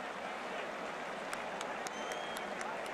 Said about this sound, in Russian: Да, и опять Флоренция аплодирует.